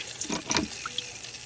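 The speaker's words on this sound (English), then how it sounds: "it's forcing out the juice out of the grapes, out of the crushed grapes" Grape juice runs out of crushed grapes squeezed in a homemade bucket winepress, making a close liquid trickle and splashing with a few bright drips over a steady wet hiss.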